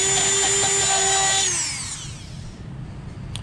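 A power drill whirs at high speed while clearing out a hole in a rubber shoe sole, then winds down as it is released, close and loud, fading into quiet background.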